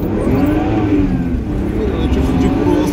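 A car drives along with a loud, steady engine rumble that swells as it revs, continuous throughout with people talking over it.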